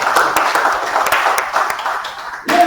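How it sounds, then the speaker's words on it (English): An audience claps together in a hall during a health-research ethics talk, a steady mid-loud patter of many hands lasting throughout, with a few sharper individual claps standing out and a brief louder burst near the end. "Clap for them again."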